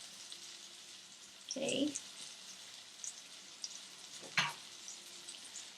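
Hara bhara kebabs lightly coated in corn flour frying in a hot pan, giving a steady faint sizzle with a few louder crackling bursts; a voice says a single word.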